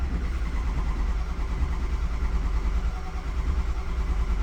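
A 6.0L Powerstroke diesel engine cranking over after a high-pressure oil repair, with a steady, loud, low churning drone that holds unbroken across the few seconds.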